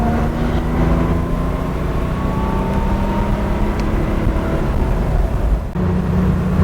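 A Porsche 911 on a test drive after a string wheel alignment, a steady, fairly loud road and engine drone with tyre roar throughout and no talk.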